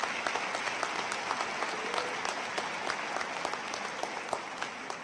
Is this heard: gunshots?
no